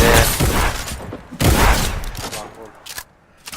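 Bursts of video-game gunfire crack out in a few loud volleys, the heaviest near the start and around the middle, with fainter single shots toward the end and people talking over the action.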